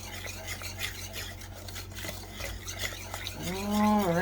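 Close, steady scraping and stirring of a heavy-duty whisk through thick fudgy brownie mixture, rhythmic rubbing strokes that end with a brief tonal whine at the close.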